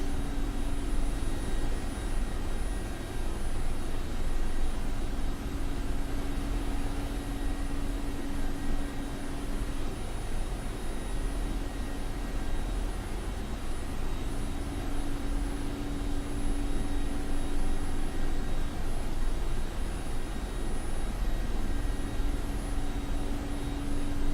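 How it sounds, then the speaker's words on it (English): A jet aircraft rolls down the runway for takeoff in the DCS flight simulator, producing a steady, even engine roar with a faint whine on top, held at a constant level and free of speech. "We'll use the runway for a rolling takeoff."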